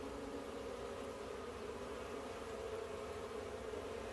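Honey bees hum continuously around a hive where they are building comb, a steady, even, moderately faint drone with no voices.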